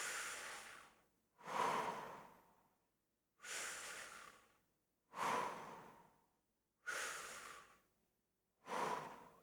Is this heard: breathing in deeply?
yes